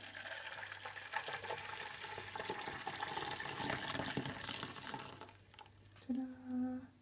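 Blended sesame seed milk pours in a steady watery gush into a nut milk bag set in a container, a continuous liquid rush that tapers off before a few brief clinks near the end.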